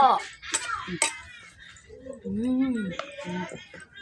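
Som tam, Thai papaya salad, is scooped from the mortar into a dish, giving a few sharp clinks of utensil against dishware, close by, while someone talks.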